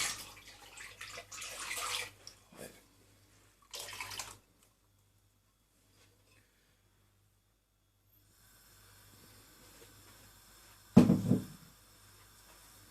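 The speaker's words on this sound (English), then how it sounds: "I'm going to add a little bit of water to this." Water splashes from a tap into a pan of broccoli and mushroom soup in short bursts separated by quiet pauses, ending with a louder, brief gush.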